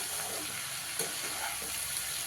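Chili powder frying and sizzling in a pan for bottle gourd dal, a steady crackling hiss with a light scrape of stirring, close and continuous with no talking.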